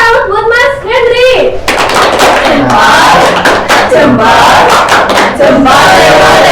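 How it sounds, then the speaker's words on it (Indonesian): A primary school class gives a clapping salute, starting with loud group chanting and then breaking into a burst of many quick claps mixed with voices that continues to the end. "kita kasih tepuk salut buat Mas Hendri"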